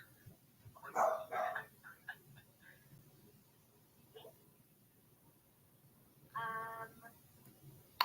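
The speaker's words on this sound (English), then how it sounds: "I heard my dog barking." A dog barks in two short, muffled bursts, one early and one later, with quiet rustling and faint background noise between them.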